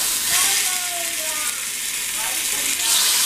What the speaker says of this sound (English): Just sear it on the other side a little bit.